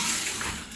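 A short splash of water poured into animal feed on a farm, a steady close rush of liquid lasting under a second.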